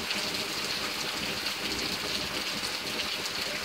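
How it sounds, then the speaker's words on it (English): Steady rain falls through a summer night in the CSRA, a continuous dense hiss of drops on surfaces, even and unbroken throughout with no voices. "I'm glad we're having a mild summer with all this rain cooling things down."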